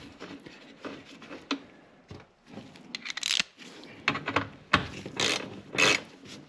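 A ratchet fitted with a 10mm socket works on a fastener of the aftermarket cold air intake in a 2024 Alfa Romeo Stelvio's engine bay, producing close bursts of clicking between handling noises and pauses.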